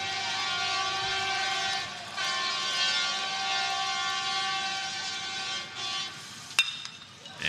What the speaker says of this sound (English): As we hear the train